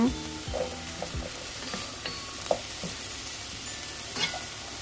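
Meat and onions stir-fry in a pan for onion curry rice, with a steady sizzle under repeated close clacks and scrapes of a utensil stirring, no voices heard.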